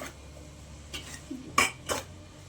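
A spoon stirs broad bean curry in a metal pan, with a few scraping clinks against the pan, close and fairly quiet, no talking.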